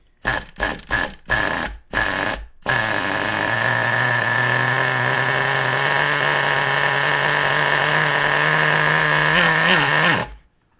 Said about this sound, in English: You see how I throttled it a little bit and it cut out.